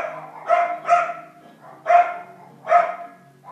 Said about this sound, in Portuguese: A minha cachorra quer entrar dentro de casa.